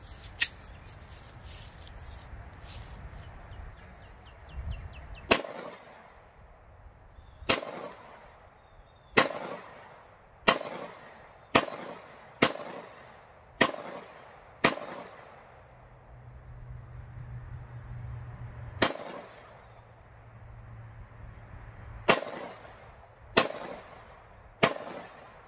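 Single shots from an FNS-9 pistol fired outdoors from a few feet away, a dozen sharp loud cracks at irregular intervals, some in quick succession, each with a short echoing tail.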